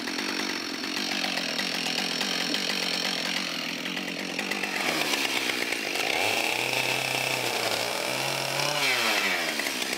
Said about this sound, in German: mit der knapp 8 Kilogramm schweren Kettensäge eine 30 Meter lange Kiefer entasten